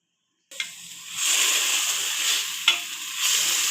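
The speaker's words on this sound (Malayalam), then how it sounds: "ആദ്യം പാത്രം ചൂടായാൽ കട്ട് വെജിറ്റബിൾസ് ഇടുക." Cut vegetables for noodles hit a hot pan and begin to sizzle, a sudden onset followed by a steady, close frying hiss with a couple of sharper spatters and clinks.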